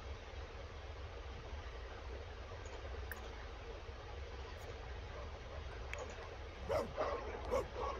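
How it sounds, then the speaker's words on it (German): A dog in a video game barks at a fridge: a few short, fairly faint yips and barks near the end, over a steady background hum. "Das Bell doch nicht unseren Kühlschrank an."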